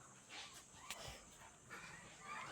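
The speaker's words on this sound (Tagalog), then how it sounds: "Uy, may mga tuta." Puppies whimpering indoors during a house walkthrough, faint high yips and whines scattered over a low room rumble, with a few soft knocks.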